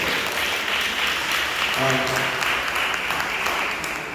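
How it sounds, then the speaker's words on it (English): Audience applause for a police inspector at a community council meeting in Brooklyn, a steady, dense wash of clapping filling the room for several seconds, with a voice briefly heard over it. "Give him a round of applause."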